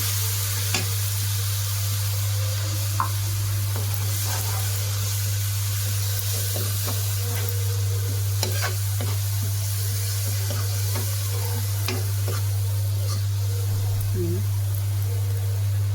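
Ground coriander and spices frying in oil before hilsa fish goes in, a steady sizzle with occasional stirring clicks under a constant low hum, with a voice talking intermittently over it.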